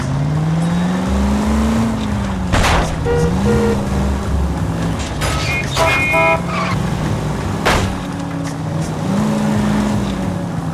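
Video-game cars in L.A. Noire drive through city traffic, the engine droning steadily and shifting pitch as it speeds up and slows, with occasional horn-like tones and passing whooshes, loud and continuous.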